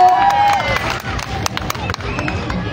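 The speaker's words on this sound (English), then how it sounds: "Let's give them a round of applause," Audience applause and scattered cheering from a crowd at a community carnival poetry performance, a dense steady clatter of clapping lasting a few seconds, close and fairly loud.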